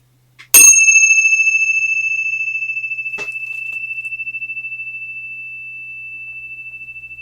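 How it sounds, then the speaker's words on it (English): A meditation bell struck once, giving a bright metallic ring that sustains and slowly fades with a gentle pulsing shimmer, with a faint tap partway through the long decay. "I'll ring the bell again just to be complete"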